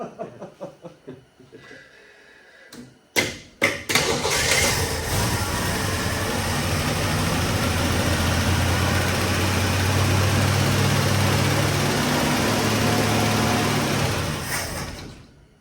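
A 1968 Ford Mustang survivor garage find with a fuel supply problem sputters through a few rough catches, then roars into a steady loud run before cutting out and dying near the end.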